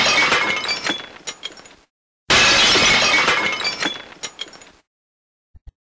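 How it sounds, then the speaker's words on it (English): Two bursts of shattering glass sound effects, each a loud crash followed by scattered tinkling debris, then a pause and two small clinks at the end, from MorphVOX Pro voice-changer software. "There's your alarm clock, broken glass."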